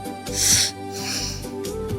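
Two slow, breathy inhalations of steam with a soft hiss, set against a steady low humming tone.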